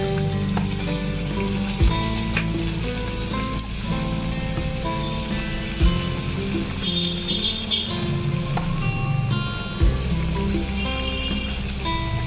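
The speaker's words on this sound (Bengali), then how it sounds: "তো এখন আমি এটাকে ডিপ ফ্রাই করবো আর কি।" Egg kochuri puris sizzle steadily while deep frying in hot oil, a dense close crackle with occasional light clinks of a utensil.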